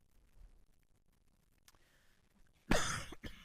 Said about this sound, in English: this cough that I have has decided to stay for a while